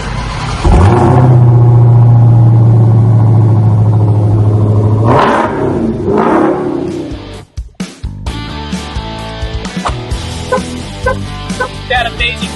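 A supercharged 6.2-liter Hemi V8 roars loudly and steadily, rises in two revs, then cuts out, followed by clattering and knocking noises.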